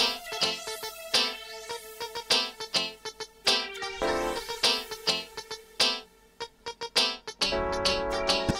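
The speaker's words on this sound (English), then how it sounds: "another Korg Trident preset called the Digital Poly 6" A Korg Trident synthesizer plays its Digital Poly 6 preset, bright plucky chords stabbing in a bouncy, spaced rhythm with sustained swells between, heard alone without talking.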